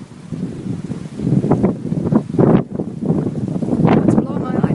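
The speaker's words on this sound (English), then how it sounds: "Here comes the wind." Gusting wind buffets the microphone with loud, irregular rumbling surges at dusk ahead of a dust storm in Phoenix, Arizona, while people talk through the gusts.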